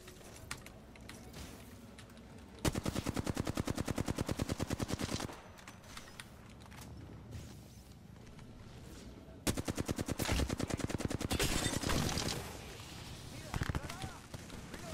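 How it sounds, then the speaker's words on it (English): Apex Legends gun magazine emptied in two long rapid-fire bursts, a tight rattling stream of shots, loud and near, with keyboard typing and a player talking over quieter gaps. "I'm just dumping my mag."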